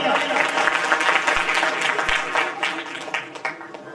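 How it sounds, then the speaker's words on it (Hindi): Loud, steady applause fills an award ceremony hall honoring students of a community talent felicitation event, a dense continuous clatter of many hands with voices mixed faintly underneath. "जोरदार तालियां"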